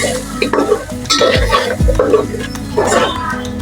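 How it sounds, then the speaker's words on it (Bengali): Onions softened in a pan with ginger, garlic, cumin and coriander powder are stirred with a utensil, scraping and clattering against the pan over a steady close sizzle of frying. "নেড়ে নিচ্ছি খুব সুন্দর করে"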